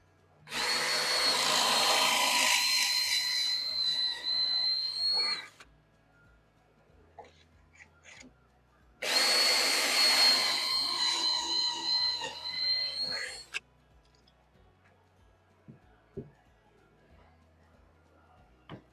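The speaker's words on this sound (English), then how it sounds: "I should have some nicely drilled pocket holes" Two long bursts of drilling pocket holes with a Harbor Freight pocket hole jig into wood, each lasting about five seconds, loud and close with a steady whine, separated by quiet pauses and a few small clicks afterward.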